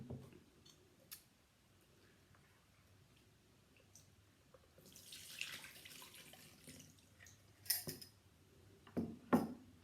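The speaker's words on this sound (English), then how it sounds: "And then I will rinse out the bowl with some extra water." Water splashing and dripping as a bowl that held rye sourdough starter is rinsed out, quiet at first, then a soft rush of running water followed by a few sharp clinks and splashes near the end.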